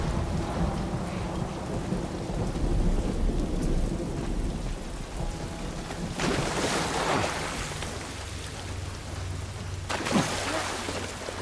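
Steady heavy rain pours throughout in The Last of Us video game, with two loud bursts of thunder cracking and rumbling partway through.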